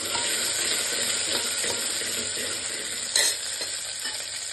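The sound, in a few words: mustard seeds, onion and garlic frying in pan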